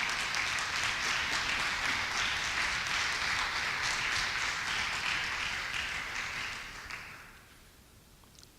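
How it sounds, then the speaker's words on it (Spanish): A church congregation claps together in sustained, dense applause for several seconds, loud and even, then fading away toward the end. "Dele un aplauso al Señor."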